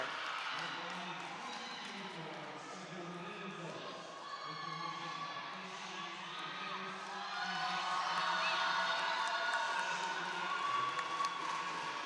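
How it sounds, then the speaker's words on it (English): Crowd at a college acrobatics and tumbling meet cheering and whooping as the LIU Sharks prepare to take the mat, a steady indoor roar swelling louder toward the end, with a voice speaking over it. "The crowd is getting hype for the LIU Sharks to take the mat for their team routine"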